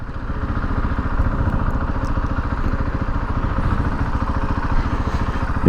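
A 2021 KTM 690 Enduro R single-cylinder motorcycle rides along a street, its engine pulsing in a fast, even, loud thumping rhythm close by, with no talk.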